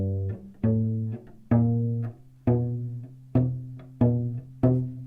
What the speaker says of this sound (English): Because the notes are not completely pressed, they are not resonating.